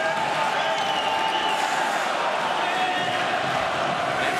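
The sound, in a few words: ice hockey arena crowd cheering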